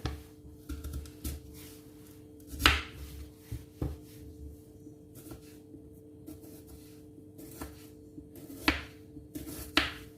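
An onion is sliced very thin on a board for Haitian pikliz: sparse, quiet knife taps come at irregular intervals, a few sharper chops standing out over low kitchen background, with no talking.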